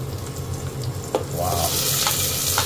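Onion and ginger sizzling in hot oil in a pan, a steady loud frying hiss that swells as the ingredients go in, with a utensil clink partway through and no talking.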